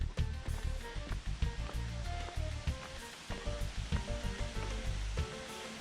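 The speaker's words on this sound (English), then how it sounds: "I hear the waterfall" Waterfall at Cascada La Chorrea near Bogotá, Colombia, giving off a steady broadband roar. Dense low rumbling and choppy pulses run continuously with no talk over it.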